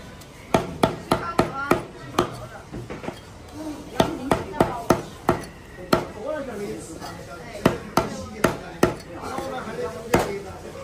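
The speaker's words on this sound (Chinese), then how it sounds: "给我帮我剁成块吧" A butcher's cleaver hacks beef brisket into chunks on a wooden block, sharp heavy thwacks coming in quick irregular runs close by, while people talk over the chopping.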